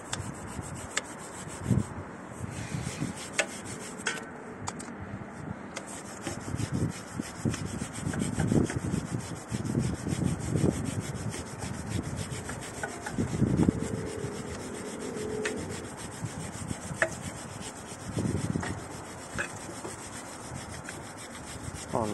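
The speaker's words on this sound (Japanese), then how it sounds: "こういう3面ブラシを使うとチェーンなんかは早く作業ができて" A three-sided brush scrubs a road bike chain during washing, making close, uneven scratchy rubbing strokes in bursts over about twenty seconds, with no voices.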